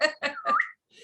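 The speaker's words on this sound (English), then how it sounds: "It's like a whistle." A person whistles to catch attention, a short run of three or four close, loud chirping notes, rising and warbling over about a second, with nothing behind them.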